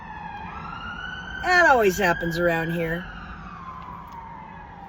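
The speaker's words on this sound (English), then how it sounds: "That's an ambulance, not the cops." An ambulance siren wails steadily in the background, sounding from a short distance outside, as a person talks briefly over it before the siren fades as it passes.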